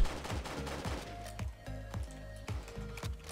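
Gunfire from the video game Roblox Jailbreak, a series of rapid, punchy shots in an uneven rhythm, loud and close with no talk.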